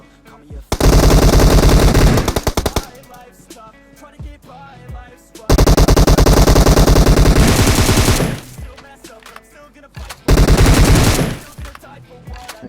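Loud automatic gunfire from the game PUBG on the Sanhok map comes in three long rapid bursts separated by short quieter gaps, close and dominant.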